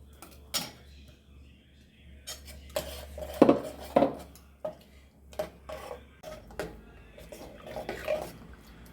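Cooked papaya being mashed in a metal pot for Kerala-style erissery, giving a string of clanking, scraping utensil knocks against the pot at an uneven rhythm, close and fairly loud.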